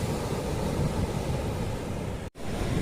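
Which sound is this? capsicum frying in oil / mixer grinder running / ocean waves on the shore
ocean waves on the shore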